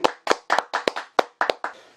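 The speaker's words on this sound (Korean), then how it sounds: "박수 한번 칩시다." A handful of people clap in a studio during an interview about a church presbytery: about nine crisp, distinct claps in a loose, slightly uneven rhythm, close and clear with silence between them.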